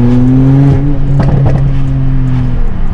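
A Porsche 991.2 Turbo S with a TechArt catless exhaust pulls out of first gear, its engine a loud, close, droning growl with strong low harmonics and a quick gear-change break in the middle.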